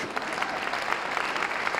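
A church congregation claps together at a Vision Weekend service, a steady dense wash of hand claps sustained throughout at even loudness, with faint voices mixed in.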